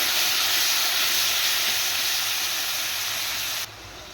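Chopped tomatoes with salt frying in oil in a pan, giving a loud, continuous broad hiss that stays steady and cuts off abruptly near the end, with no talk over it.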